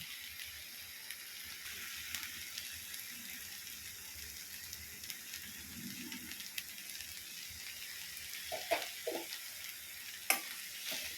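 Mixed vegetable thoran being stirred in a pan, a faint, soft continuous frying hiss with occasional light scrapes and small clicks near the end, quiet and without voices.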